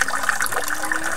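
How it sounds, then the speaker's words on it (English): Water from a model river flows and trickles past a straw barrier in a small classroom dam model, a steady close-up rushing and splashing sound throughout. "this water is picking a path here next to the straw"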